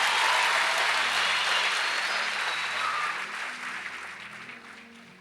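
Congregation at an evening session of a youth camp preaching marathon claps steadily in dense, close applause that gradually thins and fades toward the end, with no voices over it.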